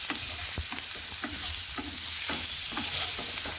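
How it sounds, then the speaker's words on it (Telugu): Stuffed paneer pieces fry with onions in a pan, under a steady loud sizzle with repeated spatula scrapes and stirring knocks close by, and no voices. "ఇప్పుడు మనం స్టఫ్ చేసి తీసుకున్న పన్నీర్ ముక్కల్ని వేసేసుకుందాం."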